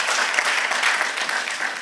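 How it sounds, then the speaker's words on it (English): An audience at an anniversary event claps for a panel of speakers, a brief, steady burst of crowd applause filling the room. "please, another round of applause for our panelists"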